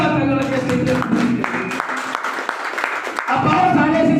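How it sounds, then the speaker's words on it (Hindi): Loud audience applause at a Hindi-language seminar or business meeting, a crowd clapping hard with a speaker's voice cutting through over the claps, the clapping thinning in the middle before swelling back. "एक बार जोरदार तालियां बजाइए।"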